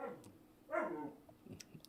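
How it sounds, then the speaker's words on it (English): A pet dog gives a single short bark or yip indoors, fairly close and moderately loud, followed by a few faint scuffling sounds, with no talking. "Yep, you can hear my dog."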